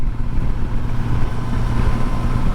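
A Suzuki GSX-S1000GX motorcycle of 2024 with a big engine hums at a steady low rumble while riding, with constant wind noise and no talk.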